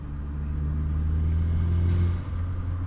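The engine of a VW Jetta MK4 running through a cheap Chinese eBay exhaust gives a low, bellowing rumble at close range. The drone is steady with a slight swell, and no one talks over it.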